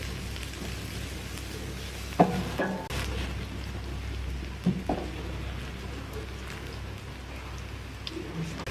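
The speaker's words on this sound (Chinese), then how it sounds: "锅留底油，把葱姜蒜倒下去炒香。" Scallion, ginger and garlic stir-fry in a little leftover oil in a wok, giving a steady, moderate sizzle broken by a few sharp clacks of a spatula against the pan.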